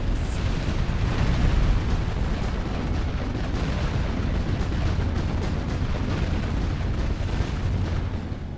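Buildings destroyed in the Age of Wonders 3 strategy game during a battle: a dense, continuous roar of crumbling, rumbling explosions that holds steady and loud throughout.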